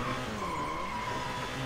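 A car reverses in the video game GTA V with a sustained tire squeal and engine drone, loud and unbroken throughout.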